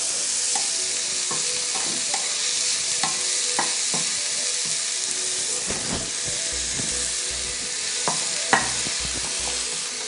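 Egg samosa filling browning in a pan, a loud continuous sizzle and hiss with repeated utensil scrapes and knocks against the pan, one sharper clack near the end, no talk.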